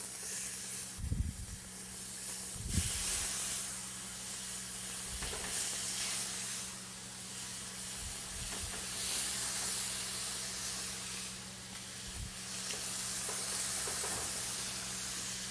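Alaskan salmon with a sweet and smoky rub sizzles in a very hot, lightly oiled pan, a steady close hiss running throughout with a few low thumps and clunks of handling.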